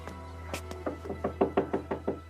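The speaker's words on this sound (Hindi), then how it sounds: "मरियम दरवाजा खोल सकती हो?" Repeated knocking on a door, a few sharp raps and then a steady series of about eight evenly spaced knocks, fairly close with a low steady hum underneath.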